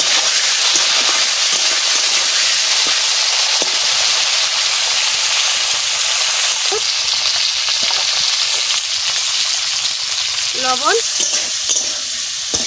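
Drumstick pieces hit hot oil with burnt mustard seeds and fry in a loud, continuous close sizzle and hiss, while a brief voice speaks near the end.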